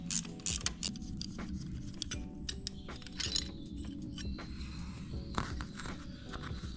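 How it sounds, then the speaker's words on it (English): A 14mm socket and a 17mm ratchet spanner loosen a mounting bracket on a Royal Enfield Himalayan 450 motorcycle, giving quiet metallic ratcheting clicks and small clinks of tools close by, with no talking. "I've got a 14mm socket on that side and a 17mm ratchet spanner to go on this side"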